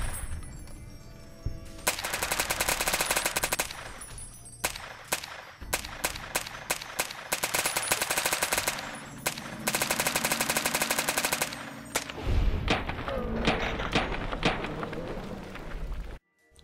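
Modded weapon firing in Fallout New Vegas, with dense bursts of rapid automatic gunfire alternating with single sharp shots and short pauses, loud and continuous with no talking.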